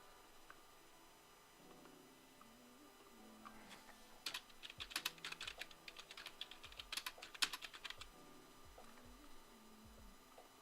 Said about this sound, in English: Typing skills are getting better.